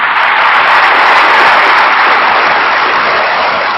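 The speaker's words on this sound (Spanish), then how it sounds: "Vamos a dar un aplauso a Jesucristo que es Rey." An audience claps in loud, sustained applause at a religious talk, with dense overlapping hand claps and no speech.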